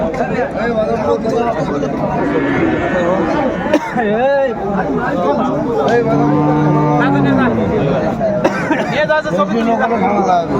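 Cattle, bulls, calves and cows, moo loudly and repeatedly amid a busy crowd at Aftabganj cattle market, with people chattering close by throughout.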